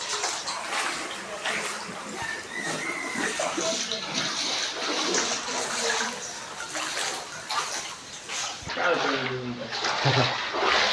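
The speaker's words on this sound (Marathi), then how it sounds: "बाथरूम मध्ये सगळीकडे पाणी असलंय." Flood water from a breached Patalganga river dam spreading through a house in Kelavane, Raigad, a steady broadband rush and splash running throughout, with voices talking over it.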